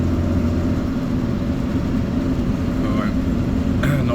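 A 69-horsepower Citroën DS engine runs hard at full throttle in third gear, a loud steady low drone with road rumble filling the whole stretch while someone talks over it.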